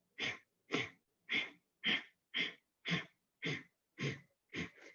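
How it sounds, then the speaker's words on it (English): Kapalabhati skull shining breath, a rapid forceful breathing exercise: nine sharp, evenly spaced nasal exhalations about half a second apart, close and clear with no talk. "In Sanskrit, it's called Kapalabhati breath, Kapalabhati, skull shining breath"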